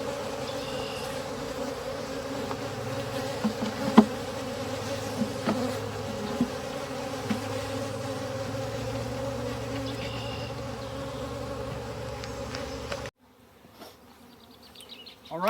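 Honeybees buzz steadily around an open hive from a swarmed colony, a dense drone with a few louder close passes, until it drops to near silence for the last couple of seconds.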